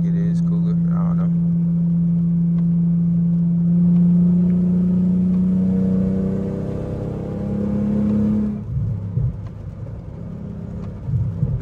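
A Mercedes W210 sedan engine cruising, a steady mid-pitched drone that holds, then drops away and roughens as the car eases off, heard from inside the cabin while someone talks.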